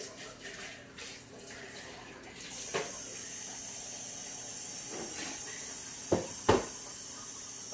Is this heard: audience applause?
no